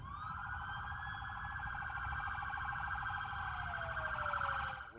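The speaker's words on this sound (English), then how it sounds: "The blare of sirens and the roaring of engines signaled the arrival of an American hero." Sirens wail from emergency vehicles in a memorial procession honoring a World War II pilot killed in action, arriving in West Virginia, several overlapping tones rising and falling steadily at a distance over a low rumble of traffic.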